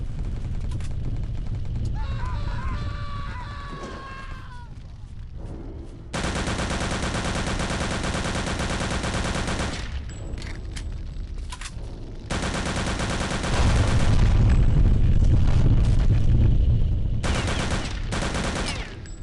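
Enemies trade gunfire in the Wolfenstein VR video game, with loud extended bursts of automatic fire broken by short lulls and a few other noises.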